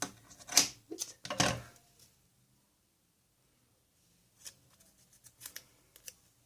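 Scissors snip paper to cut out a name, giving a few sharp close cuts at the start, then a pause and lighter scattered snips and rustles later, with no talk.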